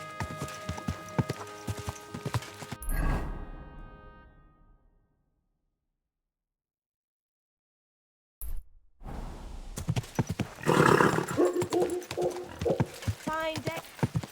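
Horse hooves clip-clopping in the Kingdom Come: Deliverance 2 video game, steady close steps with voices over them, cutting to silence midway before the hoofbeats and chatter resume busily.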